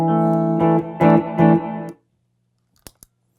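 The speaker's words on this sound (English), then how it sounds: "I have a Electro Harmonics Holy Grail, which is sort of a good spring reverb" Distorted electric guitar chords ring out through an Electro-Harmonix Holy Grail spring reverb pedal, several strums followed by a quick cutoff and a couple of faint clicks.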